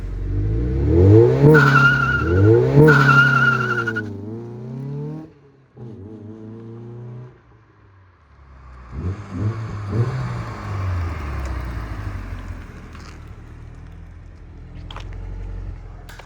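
A Mazda Miata fitted with a Torsen limited-slip differential is driven, its engine revving up through the gears in loud, rising sweeps, then easing off before accelerating again, with no one talking.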